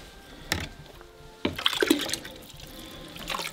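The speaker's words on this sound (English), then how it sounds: "So you get some water, and dump it down." Bucket water splashes and pours into a non-flushing toilet bowl in two short bursts, with gurgling and trickling afterward, fairly close and moderately loud, on the Everest Base Camp trek.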